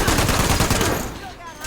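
Rapid automatic gunfire from a gun in a Fallout video game, a dense, loud, close burst that tapers off after about a second.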